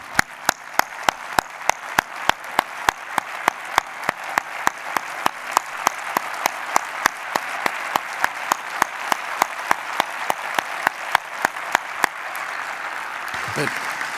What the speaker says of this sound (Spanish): me gustaría que aplaudierais a José Ángel Iríbar